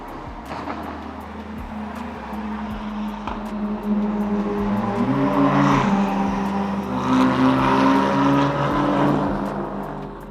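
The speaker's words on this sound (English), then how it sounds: "There's 4 Lamborghinis racing each other up the hill." Four Lamborghinis race each other up a hill, their engines droning and swelling as they climb and accelerate, moderately distant but loud, with no talk.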